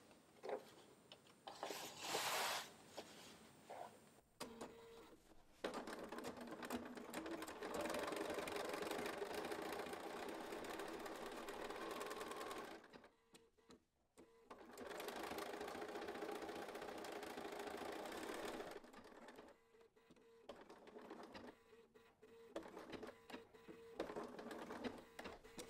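Sewing machine stitching the leg hem of cotton panties, running in two long steady mechanical bursts with brief pauses between, fairly close and clear with no talk over it.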